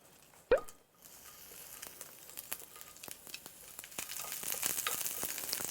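Beef and noodles sizzle and crackle in a hot pan with scattered clicks of stirring, quiet and close, after a brief sharp clatter at the start.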